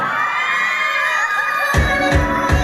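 Wedding reception guests cheer, shout and whoop as the maid of honor and others are welcomed in, a loud lively crowd with sharp bangs and rhythmic shouts in the latter half over music.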